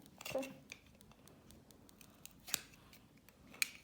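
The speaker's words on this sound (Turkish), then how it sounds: "Tahtada kes ablacığım" Pepper being cut with a knife on a cutting board, a few quiet, sharp taps and clicks spaced irregularly, with low talk in the background.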